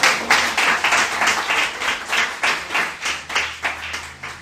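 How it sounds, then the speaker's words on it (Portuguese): A church congregation claps together in a steady, rhythmic beat, loud and near, each clap landing in an even pulse over a low background hum. "Você pode aplaudir ao Senhor com o seu melhor."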